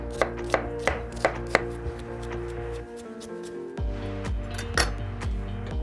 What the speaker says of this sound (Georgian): დავჭრათ ხახვი წვრილად.